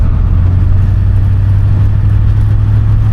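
Engine of a 1972 Ford Mustang muscle car rumbles steadily while driving, a loud, continuous low drone with no gaps or changes in pitch.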